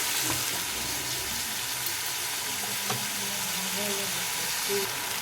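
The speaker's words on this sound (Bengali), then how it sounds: "টমেটো বাটা দিয়ে দেবো। টমেটোটা ভালো করে কষিয়ে নেব।" Tomato paste frying in a pan makes a continuous close sizzle, with a few soft scraping and stirring sounds woven through the hiss.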